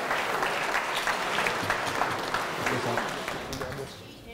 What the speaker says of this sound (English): So round of applause for Tim.